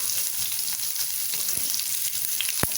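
Long-sliced onion dropped into oil with already-sautéed garlic for egg rice sizzles in a steady, dense hiss, with a few soft clicks and a sharp tap near the end; no voices.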